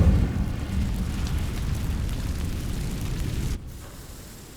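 Incendio fire spell cast in the Hogwarts Legacy video game, a loud low roaring whoosh of flame that burns steadily for several seconds, then cuts off abruptly and leaves a quieter rumble.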